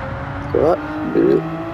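Car engine in the Gran Turismo 7 racing game, a steady engine drone broken by two short rising revs about half a second apart, each climbing in pitch and then cutting off.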